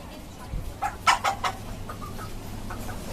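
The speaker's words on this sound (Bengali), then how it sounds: "আর এই হচ্ছে আমার সাদা মোরগটা" Chickens cluck in a short burst of several calls on a house rooftop, moderately close over a quiet background hum.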